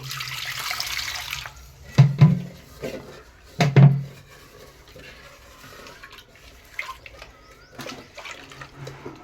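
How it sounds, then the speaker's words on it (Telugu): Water running and splashing into a cooking pot in two short, loud bursts, with quieter handling noises and faint trickling afterward. "ఇది కడుక్కుని అయితే నేను నీళ్ళు అందులో పోసేసుకుంటాను"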